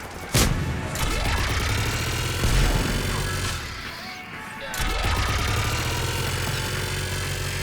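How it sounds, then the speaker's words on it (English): Gunfire and crashing impacts in the video game Mass Effect 3 (Legendary Edition), with loud bursts landing a couple of seconds apart over a dense, ringing backdrop of combat noise. "Just following the gunfire."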